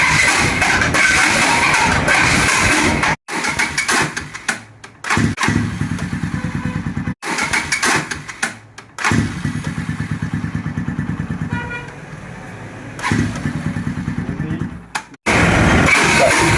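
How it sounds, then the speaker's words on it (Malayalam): A Bajaj Pulsar NS 200 motorcycle with a faulty starter clutch cranks on its self-starter in several loud, grinding whirring bursts separated by short silences, close by. "സെൽഫ് നല്ല രീതിയിലുള്ള സൗണ്ട് വരുന്നുണ്ട് അത് എന്താണ് കാരണം എന്ന് ഇതിന് കാണിച്ചു തരാം"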